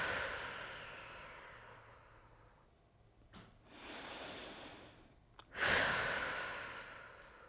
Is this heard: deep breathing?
yes